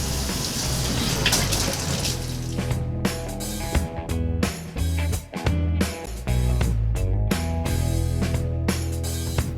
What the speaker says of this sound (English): I'm going to turn the air on, or the water on, to the rest of his house on this side.